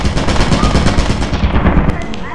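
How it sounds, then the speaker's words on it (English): Rapid gunfire in the video game Lethal Company, a dense run of loud, close shots repeating steadily through the whole stretch with no talk over it. "That was a fucking gun!"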